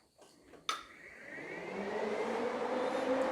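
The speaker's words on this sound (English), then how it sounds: "we're going to test to make sure that the fans actually work and that they're pulling air, not pushing air" Electric thermo fans on a Mishimoto radiator in a Nissan 180SX spin up after a short click, rising into a steady broadband whir that builds and holds close by.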